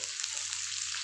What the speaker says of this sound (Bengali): পেঁয়াজগুলো আমি একটু কালারটা চেঞ্জ হওয়া পর্যন্ত একটু ভেজে নেবো